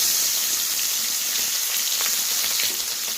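Shrimp marinated with salt and turmeric frying in mustard oil in a pan, a loud, steady, close hiss of sizzling oil without a break.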